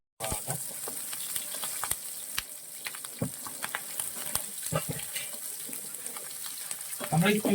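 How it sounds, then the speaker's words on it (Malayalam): Mustard seeds, green chilli and ginger sizzle and crackle in hot oil for a stew, a steady frying hiss with scattered popping bursts and a few stirring knocks, close and continuous throughout. "നമുക്ക് ആദ്യം ഒരു അല്പം കടുക് നമുക്ക് ഇട്ട് കൊടുക്കാവേ. ഇതിന്റെ കൂട്ടത്തിൽ തന്നെ ഉപ്പുമുളകും കൂടി ഇടുവാണ്."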